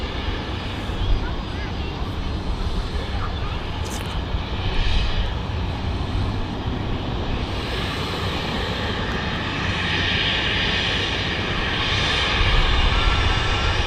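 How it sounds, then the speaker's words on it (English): Qatar Airways airliner departing Manchester Airport, a steady broad engine roar that swells slightly toward the end, heard at a distance with a person talking over it. "I finally catch this Qatar departing as well."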